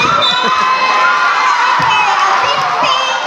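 A loud, noisy crowd fills an inter-purok basketball tournament game, with steady cheering, shouting and children's yells running throughout without a break.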